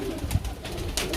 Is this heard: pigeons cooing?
yes